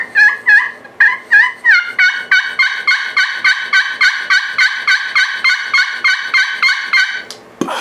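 Pot-style friction turkey call played with a hickory striker gives a rapid run of loud, close yelps, several spaced notes first and then a fast steady string of clucking yelps, with no talk.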